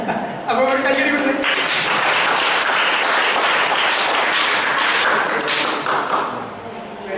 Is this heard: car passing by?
no